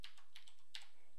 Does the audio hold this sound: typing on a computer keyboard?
yes